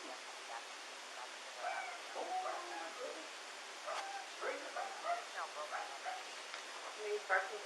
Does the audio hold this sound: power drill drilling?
no